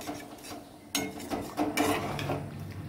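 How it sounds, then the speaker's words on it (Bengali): Dal (lentils) being stirred in a cooking pot for a Bengali vegetarian dish, with soft scraping and clinking of a spoon against the pot, a few louder knocks around the middle, close and steady with no talk. "ডালটাকে মিশিয়ে নেব, মিশিয়ে নিয়ে ডালটাকে আরো 3-4 মিনিট ভালো করে ফুটিয়ে নেব"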